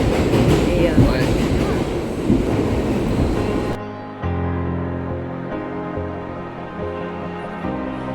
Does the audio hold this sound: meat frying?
no